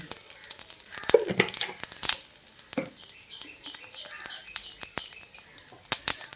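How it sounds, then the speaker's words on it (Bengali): Bay leaf, torn dried red chillies and whole cumin crackling in hot oil, a busy, uneven sizzle with sharp pops and spatters close by, and no voices. "এবার তেলটা ভালো করে গরম করে নিয়ে এর মধ্যে দিয়ে দিচ্ছি একটা তেজপাতা আর 2টো শুকনো লঙ্কাকে ছিঁড়ে দিয়ে দিচ্ছি আর 1 চামচ মতো গোটা জিরে।"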